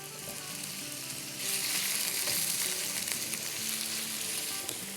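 Ingredients for tawa pulao frying in a pan, a continuous sizzle that grows louder and brighter partway through, close and steady with no talk.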